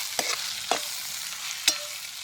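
Spoon scraping through ground coriander, turmeric, asafoetida and chutney in a hot pan, three distinct stirring scrapes over a soft steady sizzle, no talk.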